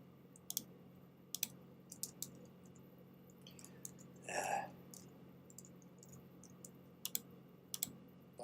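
Scattered computer keyboard keystrokes click in short bursts and single taps during a Minecraft game, faint and close against a quiet hum, with one brief soft breathy noise midway.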